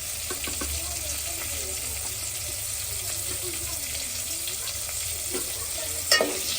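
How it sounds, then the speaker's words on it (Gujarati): Small onions sauté with salt and turmeric in a pan, a steady broadband frying hiss with light stirring scrapes throughout and a brief clatter near the end. "પછી આને કરી નાખવાની છે પાછું મિક્સ ટૂંકમાં ડુંગળીને આપણે સાતડવાની છે સારી"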